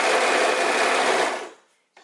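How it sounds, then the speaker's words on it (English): A sewing machine runs steadily as it stitches fabric for a scarf top, a loud continuous whir that holds for over a second, then slows and stops, followed by a brief click. "So we start sewing."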